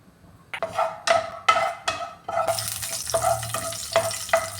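Cashews frying in hot ghee in a pan while being stirred, giving sharp ringing scrapes of a spoon on the pan at a regular pace, then a louder, fuller sizzle that carries on under the stirring.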